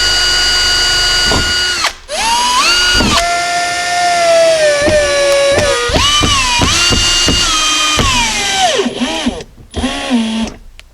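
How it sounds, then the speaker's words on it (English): A cordless drill whines loudly in repeated bursts, pitch sliding as the screws bite and slow while fitting speakers in a Jeep Cherokee XJ, with short pauses between runs. "I'm going to go and pre-drill the other 2 and screw them in as well."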